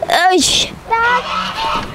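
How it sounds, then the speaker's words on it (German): A goose honks loudly nearby several times in quick succession, with brief voices mixed in. "Da ist eine Gans."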